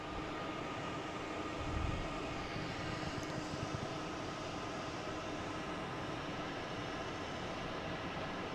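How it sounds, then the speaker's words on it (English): A JetBlue Airbus A220, flight 809 to Jacksonville, taking off, a steady dense engine roar at moderate distance holding even throughout, with a brief low swell early on and no talk. "Also got a JetBlue taking off, heading to Jacksonville, flight 809"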